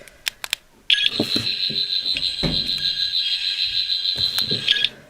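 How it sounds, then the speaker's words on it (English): A Doctor Who sonic screwdriver toy gives off a sustained, warbling electronic scanning tone after a few clicks, close and fairly loud, ending with more button clicks. "Press it twice, it makes sort of a scanning sort of sound."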